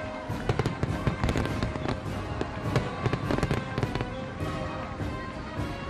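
Fourth of July fireworks burst in a dense, crackling barrage of sharp bangs and pops, some near and loud, others overlapping in continuous rapid succession.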